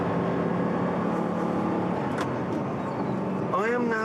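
Audi R8 with the 4.2-litre V8 shared with the RS4 saloon, driving at speed, giving a steady engine drone with a brief rising sweep near the end, heard close and continuous.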